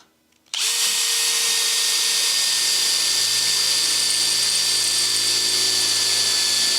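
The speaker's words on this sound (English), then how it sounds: "I need to drill a couple of holes here so I can actually kind of spot weld it" A power drill bores holes into a rusty old car's lower fender panel. It starts abruptly after a brief silence, then holds a loud, steady high-pitched whine with a constant tone, close and alone.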